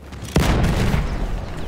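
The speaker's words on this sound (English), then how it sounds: "Yo, they're fucking shooting my tank." A tank is struck by gunfire in the game Battlefield 1: one heavy, sudden boom, then a sustained low rumble that fades only slightly.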